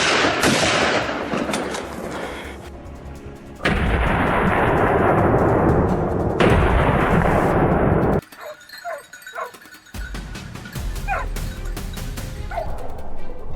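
A single gunshot fired at a wild boar from an ambush on farmland, sounding as a loud sharp crack amid dense, continuous outdoor noise, followed by a sudden quieter stretch.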